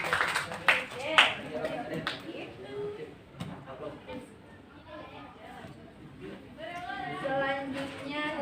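A classroom of students gives a short burst of applause, loudest at the start, then fades into chatter while a teacher talks over the room.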